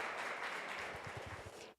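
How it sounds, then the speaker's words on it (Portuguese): Audience applause at a lecture on autism and disabilities, a dense steady patter of clapping at moderate level that fades abruptly near the end, with no voices over it. "Salva de palmas para ela"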